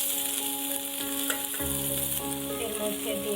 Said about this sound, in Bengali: আর এই তেলের মধ্যে আমি দিয়ে দেব জল থেকে ছেঁকে তুলে নেওয়া সয়াবিনগুলো।